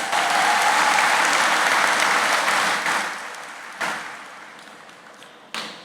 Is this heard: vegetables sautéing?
no